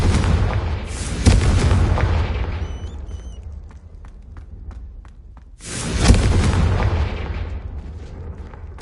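A Confringo fire spell blast in the game Hogwarts Legacy on PS5, two heavy booming explosions with rumbling tails, the first fading into a quieter lull before the second erupts loudly.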